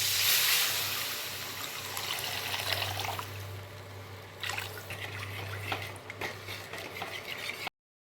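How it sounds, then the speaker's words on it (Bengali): Water poured into fried spices for a rohu fish curry, a soft liquid trickle and splash that is loudest at the start and then settles into quieter bubbling, with a low hum underneath and no talk. "এখন আমি এর মধ্যে দিয়ে দিব জল।"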